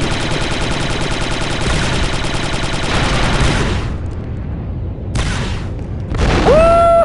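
Star Wars: Republic Commando battle sounds, dense rapid blaster fire and booming blasts in a continuous barrage, followed by a heavy explosion boom and a rising electronic tone.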